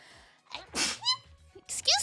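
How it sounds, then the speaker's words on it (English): A person sneezes after a sharp gasping intake of breath, a short close burst followed by a second sneezy exhale, with a quiet murmur of voice around it. "Oh, I feel a sneeze."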